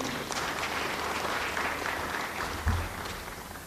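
Audience applause at the launch of an annual NGO sector report, a continuous wash of clapping from a seated crowd at moderate volume, with one brief thump partway through.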